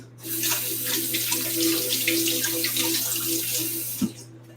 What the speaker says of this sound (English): let me rinse this one off.